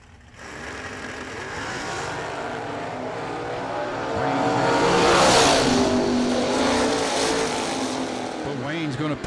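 A drag race run between an S10 pickup and a 1972 Nova, engines revving and roaring as the cars launch, the sound swelling louder mid-run, with an announcer talking over it.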